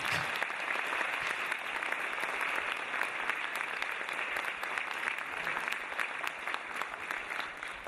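Audience applause after a kindergarten children's performance at a celebration, a steady dense clapping of a large crowd filling the whole stretch without talk.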